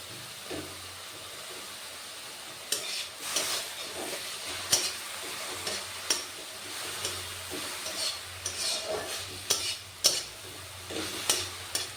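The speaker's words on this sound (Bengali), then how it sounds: "দেখুন শাকটা আমার ভাজা হয়ে গেছে" Leafy greens (shak) frying in a pan and being stirred, with a low steady sizzle broken by repeated scraping strokes of the spatula at close range, no voices.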